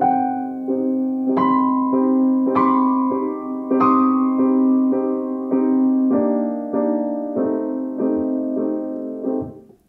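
Opera orchestra with piano-like accompaniment while a child's violin stumbles through Fauré's Après un rêve, steady repeated chords under a wavering, uneven melody, with no talking.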